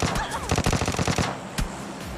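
Fast, close automatic gunfire in PUBG Mobile Lite, a dense rattling burst lasting about a second, followed by a single louder shot and lingering game ambience.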